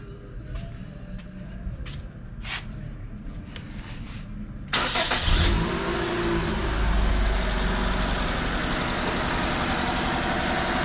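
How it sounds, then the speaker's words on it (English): A 2004 Nissan Sentra with a misfire starts up with a sudden loud burst, then settles into a steady, close rumbling idle with a slight shake for several seconds. "turn the car on."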